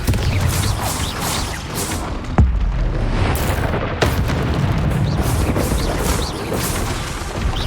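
Blasting spell explosions from the video game Hogwarts Legacy, loud booming impacts over a constant roaring combat din, with a sharp blast standing out partway through.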